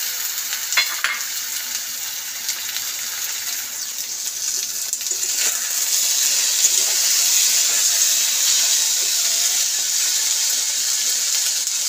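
Tomato added to hot oil in a pan gives a steady, close sizzle that swells slightly louder partway through, with faint stirring scrapes and no one talking.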